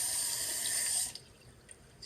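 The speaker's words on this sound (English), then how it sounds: "Just running hot water over here." Hot water gushes from a sink tap in a loud, steady hiss for about a second before being shut off, leaving a quiet room with a couple of faint drips afterward.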